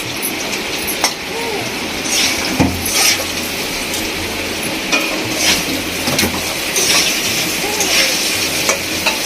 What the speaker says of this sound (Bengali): লঙ্কা বাটা দিয়ে কষানো হয়ে গেছে,